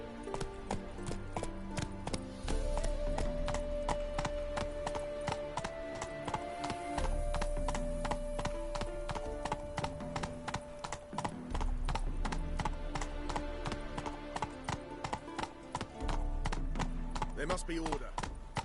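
Horse hooves clip-clop in a fast, steady gallop in The Witcher 3 on PS5, a continuous rhythmic drumming close up over a soft music bed.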